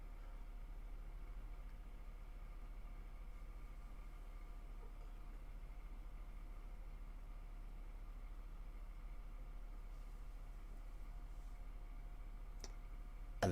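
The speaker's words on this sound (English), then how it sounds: "And they've just started a lorry outside." A lorry engine idles steadily outside, a low continuous rumble heard from a distance that holds at an even level throughout, with a faint click near the end.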